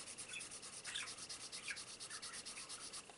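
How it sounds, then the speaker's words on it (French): Dry crayon rubbing back and forth on paper in quick repeated strokes, a quiet close scratchy texture running steadily and alone. "On entend la matière gratter le papier."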